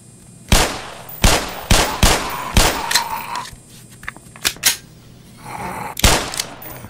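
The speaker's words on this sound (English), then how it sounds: "Can I turn that turret off?" Turret gunfire from Half-Life: Black Mesa, heard as a series of sharp, loud, separate shots with brief pauses between them, landing in uneven clusters across the stretch, with no voice over it.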